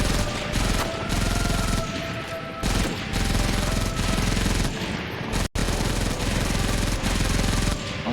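MG-42 machine gun fire in the video game Medal of Honor Vanguard, a loud, dense, continuous burst of rapid shots running almost unbroken throughout.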